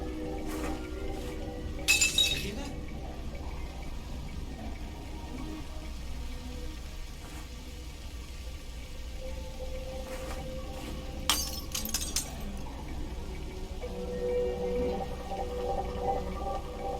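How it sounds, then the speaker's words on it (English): Glass bottle shattering in the video game We Happy Few, a couple of sharp breaking crashes over a steady game ambience with faint clinks in between. "I wouldn't be going to where the bottle breaking sounds are."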